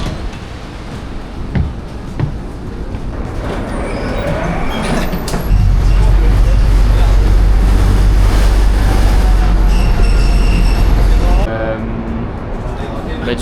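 A city tram in Belgrade: a low rolling rumble swells into a loud, close roar of wheels on rails from midway, with faint metallic squeals over it, then drops back to a quieter interior.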